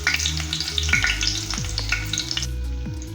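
Whole spices and dried red chilies fry in hot oil, a steady close crackling sizzle with a few soft scraping strokes through it, no voices.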